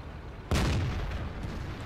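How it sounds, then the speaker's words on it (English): A single loud tank cannon shot from the STB-1 fired on the move in a tank combat game, a sharp boom at mid-clip trailing into a long rumbling decay over a quiet engine bed. "Try to shoot the waffle on the move"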